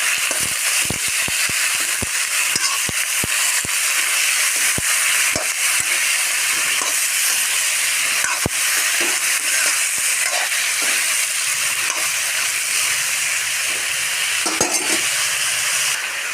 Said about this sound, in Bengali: আলু আর বেগুন কেটে রেখেছিলাম ধুয়ে, দিয়ে দিলাম, দিয়ে নাড়তে থাকবো